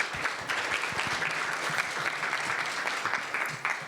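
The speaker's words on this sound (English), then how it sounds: "another round of applause for our speaker" An audience at an IEEE ISMAR conference paper session applauds a speaker, a full, steady burst of clapping lasting a few seconds, close and loud, with faint voices underneath.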